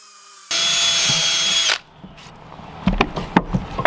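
A power drill pre-drills into a 2x4 while a soldier fly larvae composting bin is built, one loud steady whir of about a second, then quieter clicks and knocks as the bit is handled.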